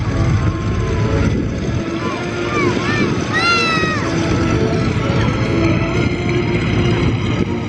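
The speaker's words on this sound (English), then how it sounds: "Nothing like the sound of a radial engine." Radial aircraft engines, including a Waco biplane's, idle and rumble steadily at an airshow while the pilots check their flight controls, a loud continuous drone with a few faint whistling tones over it and some talk in the background.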